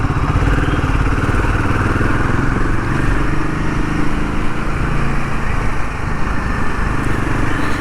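A Royal Enfield Himalayan 450 motorcycle runs on a ride, its engine giving a steady, loud, continuous drone with low rumble throughout and no pauses.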